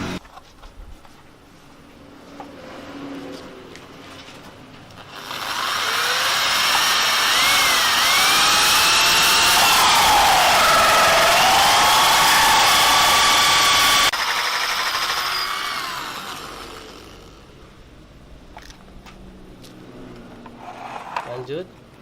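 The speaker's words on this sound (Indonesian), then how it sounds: "Kita tinggal mengebor menggunakan mata bor ini." Power drill boring a hole through a plastic bucket lid for a home hydroponics setup, a loud sustained whine of about nine seconds with rising and falling pitch, quieter handling and background noise before and after.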